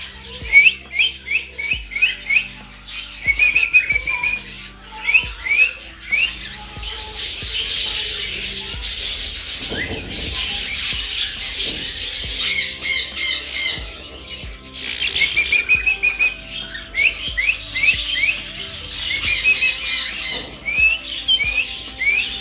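Several pet parrots, including a red rump, chirp and squawk in bursts, sharp repeated calls rising and falling close by, with short pauses between flurries.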